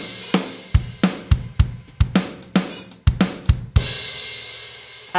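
The stock SoCal drum kit in Logic Pro X plays a steady groove. Punchy kick and snare hits alternate under hi-hats, and a crash cymbal washes out near the end, heard clearly with no talking.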